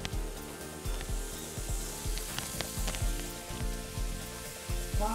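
Onions sizzle on a teppanyaki grill while burgers cook, a steady close frying hiss with repeated rhythmic scraping and clicking from a utensil across the metal plate.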